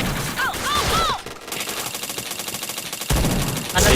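Continuous rapid gunfire in a shooting video game, dense and loud throughout with a few bright chirping effects near the start, and no clear voices.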